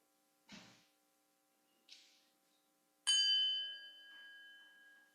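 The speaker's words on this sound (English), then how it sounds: "I'll ring the bell" A single bell rung during a Unitarian church service: a couple of soft handling taps precede one clear, bright strike that rings out and decays slowly over about two seconds, alone in a quiet room.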